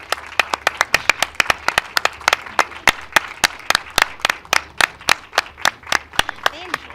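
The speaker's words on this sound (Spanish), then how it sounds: "Un aplauso, claro, sácala para que la vean." Rhythmic, close clapping at an award presentation, loud sharp claps in a fairly even beat for several seconds, with a voice briefly heard underneath.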